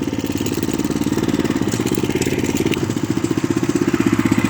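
A walk-behind tractor engine chugs steadily as it drives slowly through snow and ice, a close, loud, evenly pulsing mid-pitched idle throughout with no talk.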